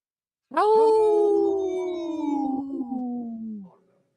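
A single long, wavering howl from human voices imitating a wolf, rising sharply then slowly sliding down over about three seconds before fading out.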